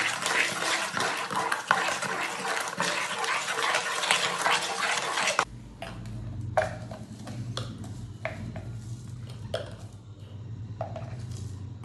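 Sugar being stirred into a liquid mixture for a vettu cake batter, first a loud rushing watery churn, then quieter sloshing with scattered clinks and scrapes of a spoon against the bowl.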